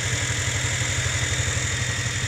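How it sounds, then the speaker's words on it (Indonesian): A motorcycle engine idling steadily right after starting, a close, even low throb that runs throughout with no voices. "Motor dihidupkan"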